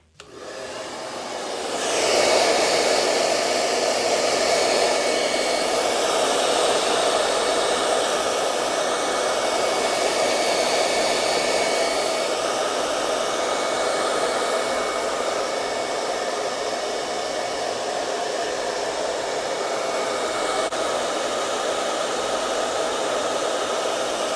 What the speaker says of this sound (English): now I'm gonna take my blow dryer and I'm gonna dry it